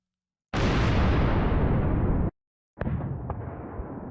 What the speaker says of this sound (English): Bomb distant. That's perfect. Just like a nuke going off a mile away.